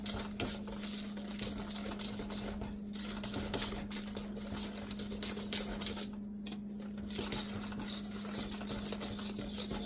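A spoon stirs pumpkin bread batter in a bowl, soft irregular scraping and sticky patter in short strokes with brief pauses, close and faint over a steady background hum.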